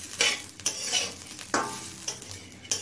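Grated ginger frying in a pan as it is stirred, with a steady sizzle broken by several sharp scrapes of the spoon against the metal.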